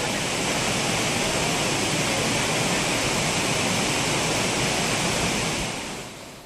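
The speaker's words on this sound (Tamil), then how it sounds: "பிரதான அருவி, ஐந்தருவி, பழைய குற்றால அருவி, சிற்றருவி உள்ளிட்டவற்றில் வெள்ளம் பெருக்கெடுத்து காணப்படுகிறது." Flooded Courtallam waterfalls roar after heavy rain, a loud, steady wall of rushing water that stays constant before easing slightly at the very end.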